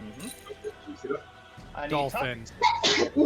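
A single sharp sneeze bursts out from someone in a live improv comedy audience, loud and close, amid chatter and talking voices.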